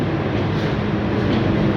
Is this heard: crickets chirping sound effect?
no